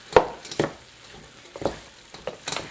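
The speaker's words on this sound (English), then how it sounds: "stirring it so it doesn't burn, to soften the onions and the garlic" Diced onions and minced garlic cook in a pot for chili just below medium heat, and a spoon scrapes and stirs them in a few separate strokes over a soft, faint sizzle.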